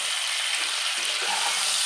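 Ground cumin and ginger paste sizzles in hot oil with turmeric, cooking for a hilsa and pumpkin curry, a steady, close, bright frying hiss throughout with no talking.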